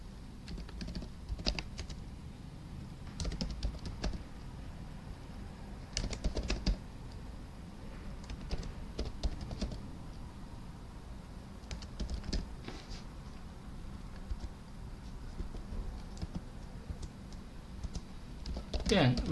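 Code being typed on a computer keyboard: bursts of fast, light key clicks, near and fairly faint, recur throughout.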